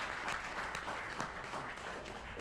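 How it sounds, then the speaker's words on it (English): An audience at a meeting breaks into a round of applause, a steady wash of many hands clapping, fairly distant and even from start to finish. "Another round of applause."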